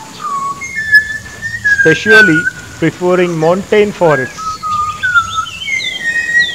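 A Malabar whistling thrush gives clear, bright whistled notes, some sliding and some steady, ringing out in phrases at the start and end, while a person speaks in the middle.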